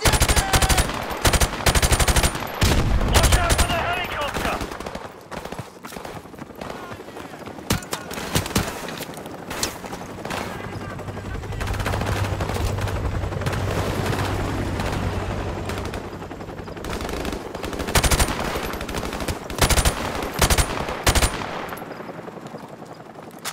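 Heavy machine gun fire in Call of Duty Modern Warfare Remastered rattles in long, loud bursts, pausing midway under a low engine drone before the dense firing picks up again.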